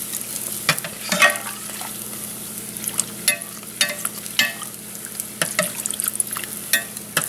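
Guyanese bake dough fries in hot oil, a soft steady bubbling sizzle with a faint low hum beneath it, broken by repeated sharp clicks and splashes as a spoon scoops oil over the top.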